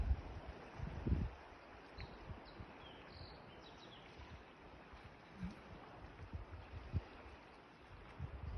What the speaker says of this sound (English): The wind, the waves.